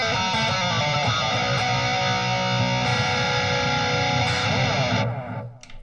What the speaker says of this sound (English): And then I have the same amp with a tube screamer and a delay.